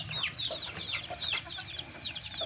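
Hens and chicks cluck and peep steadily in a farmyard after being released, with repeated chirps over a low background of fowl sounds and no talk.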